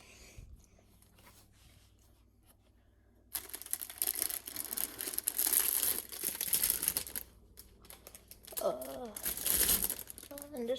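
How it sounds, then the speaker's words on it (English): Bread packaging crinkles and rustles close up as a loaf is handled for a homemade chicken sandwich, loud bursts of plastic crackling after a quiet start, with a brief fainter pause midway. "I'm just gonna grab some bread quickly."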